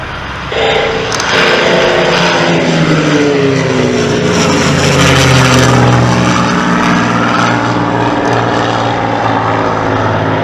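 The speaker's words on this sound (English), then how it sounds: "I can't get enough of those Rolls-Royce Merlins either. V12 power." A Rolls-Royce Merlin V12 propeller aircraft roars past at an air show in Grass Valley, California, with a loud, continuous engine drone whose pitch sweeps down as it passes and no talk.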